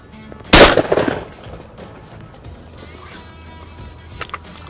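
A single loud shotgun blast fired at wood pigeons in open countryside, a sharp close crack with a rumbling tail that fades into quiet outdoor ambience with faint rustling.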